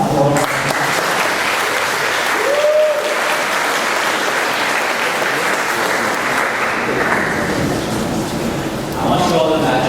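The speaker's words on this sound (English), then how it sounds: "give a round of applause." A steady, dense round of applause fills an auditorium at a Fordham University sophomore kickoff meeting, holding at even strength for several seconds before tapering off near the end.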